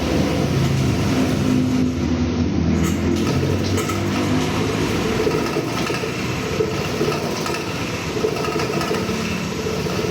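A Honda PCX160 scooter with a fuel pump issue runs after starting, heard as a steady, loud, close engine drone with some rumble that holds for the whole stretch.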